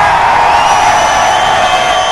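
A crowd of fans at an MMA tournament roars and cheers loudly for a fighter from Fresno, California, a sustained dense wall of noise.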